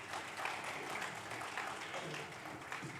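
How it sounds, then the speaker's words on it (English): Applause from a function audience greeting the chief guest, Naveen Patnaik, at the Devi Awards 2024 Odisha edition, a steady, fairly faint wash of clapping with a murmur of voices beneath. "round of applause there"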